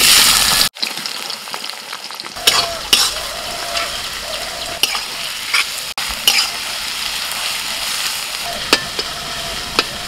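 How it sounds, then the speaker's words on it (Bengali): Onions fry loudly in a large pot for potato biryani, a dense continuous sizzle broken by repeated scrapes and clinks as a utensil stirs them close by. "বৌদি হ্যাঁ পেঁয়াজগুলো একটু নাড়ো"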